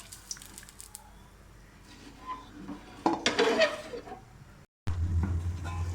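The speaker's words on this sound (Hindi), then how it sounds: "यहाँ हमारा पानी गर्म हो चुका है, उसमें हम चावल डालते हैं।" Rice goes into a pot of hot, oiled water with a short rushing splash and scraping, after soft clinks of cookware in a quiet kitchen and a brief pause.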